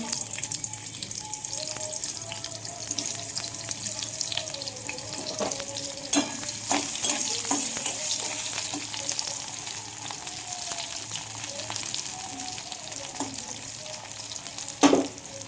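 Onion fries in a pan with a steady close sizzle, scattered spatula scrapes and knocks, and a sharper clatter near the end, no one speaking.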